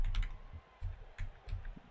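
Someone types on a computer keyboard: several short bursts of soft keystrokes separated by brief pauses, close and fairly quiet.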